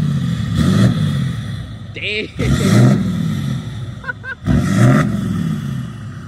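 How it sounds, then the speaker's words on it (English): A lifted Ford F250 pickup truck engine roars in repeated revs, surging loudly then dropping back, with brief voices between the bursts. "Revving his truck."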